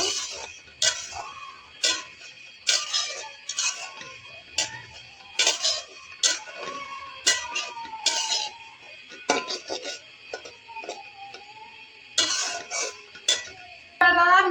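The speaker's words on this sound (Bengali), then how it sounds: "এখন আমি তিলগুলোকে একটু সুন্দর করে ফ্রাই করে নিব।" Sesame seeds being fried in a wok for sesame sweets: steady sharp clicks and ticks with metallic clinks and scraping recur throughout, moderately loud and close, with no talking.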